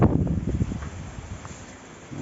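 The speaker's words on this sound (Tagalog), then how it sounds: "Naglilipara ng daon ng saging." Wind blowing through banana leaves in rural Batangas, a gusty rustling roar that starts loud and close, then eases to a softer continuous whoosh before picking up again at the end.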